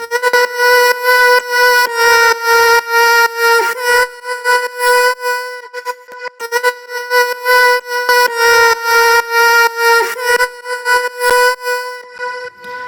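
A sustained synth tone is chopped into a rhythmic on-off pattern by a gate effect made with Ableton's Utility device, pulsing in quick even bursts with brief pauses between phrases, loud and alone without voices.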